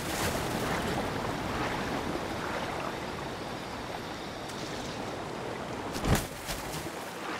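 Waterfall roar at Talus in Zelda: Breath of the Wild, a steady broad wash of falling water throughout, with a brief sharp thump near the end.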